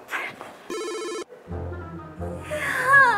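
A telephone rings loudly in a room, its electronic ringtone repeating in steady pulses before a person speaks over it.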